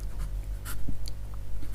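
A pen writes on paper close by, a soft, steady scratching with brief, slightly louder strokes over a low background hum.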